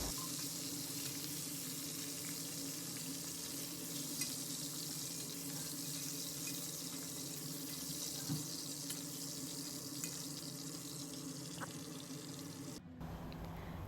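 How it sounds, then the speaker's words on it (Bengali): Crabs fry in hot oil with a dense, continuous sizzle and crackle, loud and close for the whole stretch before cutting off abruptly near the end. "কাঁকড়াগুলো ভেজে নেওয়ার পরে কি সুন্দর লাল লাল রং হয়ে যায়"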